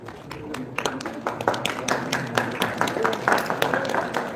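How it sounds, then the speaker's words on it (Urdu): Audience clapping at a prize-giving ceremony as a prize winner is called up, steady applause of many hands with some talk underneath. "بہت بہت تالیاں آپ کے لیے"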